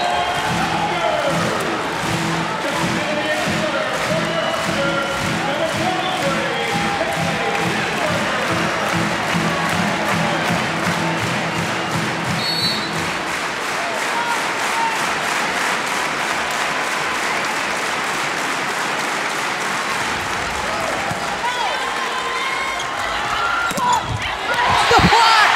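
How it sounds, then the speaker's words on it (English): A large arena crowd at a Penn State at Nebraska college volleyball match roars and applauds steadily, with loud cheering and clapping filling the space and a commentator talking over it. "Crowd on its feet."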